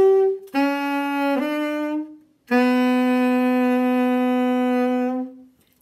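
Solo saxophone closes a piece with a slowing ending: a short note, then a held tone, a brief pause and one long sustained final note, near and loud with rich harmonics.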